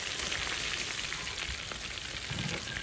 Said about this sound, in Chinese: 这全部把它炸完了